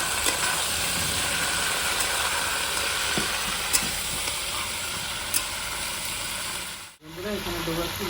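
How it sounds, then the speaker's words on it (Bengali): Potatoes and flat beans fry together in a pan, giving a steady, close sizzle with light stirring scrapes; about seven seconds in the frying cuts off abruptly and a quieter, tonal background follows. "এখানে আমি আলু আর সিম একসঙ্গে ভেজে দেবো। হালকা ভাজা হয়ে গেছে, একসঙ্গে সব ভাজবো।"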